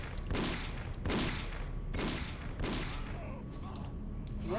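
Heavy gunfire in the Condemned: Criminal Origins game, coming as a few loud broadband bursts roughly a second apart over a continuous background din.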